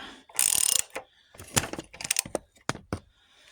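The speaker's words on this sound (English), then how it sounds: "That's just me popping the socket out of the extension out of the socket on accident" Metal clicks and clanks from a socket popping off a ratchet extension during work on a crusty old engine, with a loud rattling burst early on followed by several sharp, close knocks and taps.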